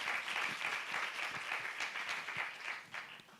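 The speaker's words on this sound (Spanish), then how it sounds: "Un aplauso." Audience at a talk on the Amazon, innovation and communication applauding, a fairly faint, steady spatter of many hands clapping, heard alone.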